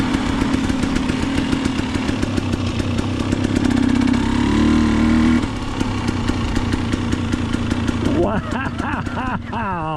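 A motorcycle engine runs loud and close throughout on a long ride back from the Salmon River on the Idaho Backcountry Discovery Route, rumbling with a shifting pitch, and a voice joins near the end.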